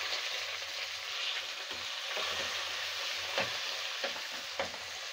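Onions with red and green chillies fry in hot oil in a pan, a steady close sizzle with occasional stirring scrapes and pops throughout.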